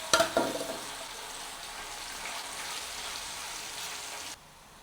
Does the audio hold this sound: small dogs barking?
no